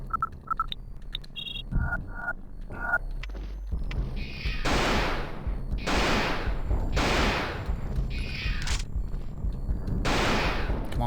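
Bursts of gunfire from enemies in the survival horror game Alone in the Dark: The New Nightmare, loud repeated volleys coming in waves over a rumbling game soundscape, with brief clicks and electronic tones early on.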